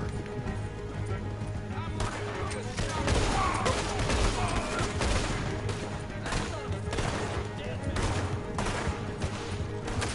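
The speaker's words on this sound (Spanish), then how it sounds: "se ha montado un tiroteo de tres pares de cojones aquí en un momento" A chaotic gunfire shootout in Red Dead Redemption 2 during a jail breakout at Strawberry, with repeated rapid shots and bursts over several seconds, mixed with hoofbeats and other game sounds.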